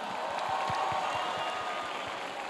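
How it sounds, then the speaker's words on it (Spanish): A large festival crowd at the Viña del Mar Festival roars and applauds as Patti Cantú comes onstage, a loud, dense wall of clapping and cheering with scattered low thumps throughout. "Un aplauso fuerte a Patti Cantú"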